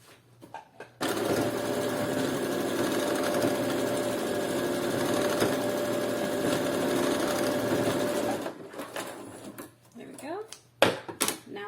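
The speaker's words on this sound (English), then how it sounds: "now I'm gonna just sew" A sewing machine stitches a ring-detailed thong in one continuous run of about seven seconds, then stops, followed by quiet handling clicks and a few faint voice sounds.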